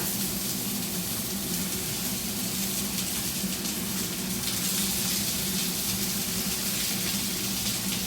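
Tomatoes frying in a pan make a steady, dense sizzle that runs unbroken and fairly loud from start to finish, with no voices over it.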